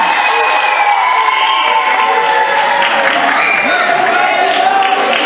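An audience at a French slam poetry show cheers, whoops and applauds loudly for the poet Monica, a dense, continuous wall of crowd noise with shouts rising above it throughout.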